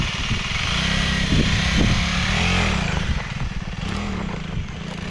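An FB Mondial Flat Track 125cc motorcycle engine revs up and pulls away, rising then settling into a steady running drone, loud and close without talk.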